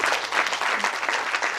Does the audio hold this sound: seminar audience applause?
yes